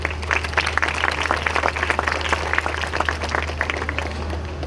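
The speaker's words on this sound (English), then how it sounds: "I think they deserve a round of applause." Graduation ceremony audience applauding together, a dense steady wash of many hands clapping at moderate loudness throughout, with a low hum underneath.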